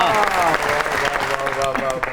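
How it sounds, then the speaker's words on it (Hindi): Applause from a studio audience on a comedy show, brief clapping mixed with a crowd murmur while a musical tone with clear harmonics and a voice run through it, busy and fairly loud. "बहुत सी तालियों में"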